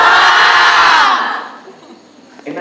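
A crowd at a religious gathering shouts Allah together in unison, one loud massed shout lasting about a second before breaking off into a quiet room with faint murmurs.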